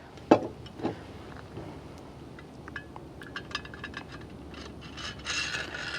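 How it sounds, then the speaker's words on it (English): Threaded rod pushed into a fast gun mechanism while loading a truck camper, a sharp metallic clack at the start, then scattered clicks and ratcheting rattles, close and fairly quiet, with no speech. "Threaded rod, you just push into the fast gun itself until you can see it coming up the top here."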